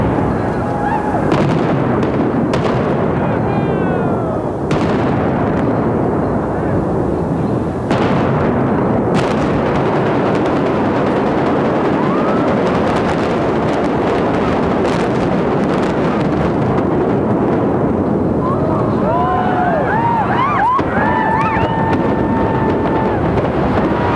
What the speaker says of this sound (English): The walls came tumbling down in grand fashion at the Dunes Hotel in Las Vegas